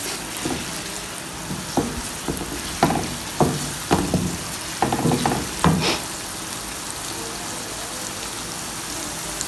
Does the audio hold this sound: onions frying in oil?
yes